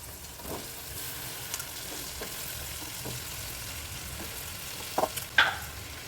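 Curry leaves and cut sweet potato fry in a pan for a Gujarati sweet potato shaak, giving a steady close sizzle with a few sharp stirring clicks and scrapes toward the end.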